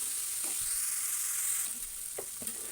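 Green chillies and onions frying in a pan for a dry fish curry give a steady quiet sizzle, with a few soft stirring scrapes toward the end.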